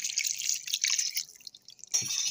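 Water is poured into homemade ginger garlic paste in a kitchen, a bright splashing trickle that runs, thins out, then surges again briefly near the end, close and fairly loud.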